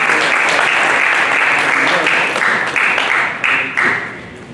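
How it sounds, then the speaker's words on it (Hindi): Thunderous audience applause greeting a motivational speaker at a student parliament event in Bihar, a loud, dense crowd of clapping that holds steady, then gradually thins and fades near the end. "तालियों की गड़गड़ाहट में स्वागत करेंगे मोटिवेशनल स्पीकर श्री शशीष तिवारी जी"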